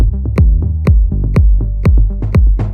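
An Afro House bass synth processed with OTT compression and hard sidechain, pumping in a steady rhythm with punchy kicks; each note ducks and swells back, loud and close, with no voices.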